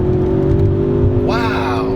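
A 2018 Ford Focus ST engine blips loudly on a downshift while driving, a steady droning rumble that sweeps up in pitch near the end, heard from inside the car.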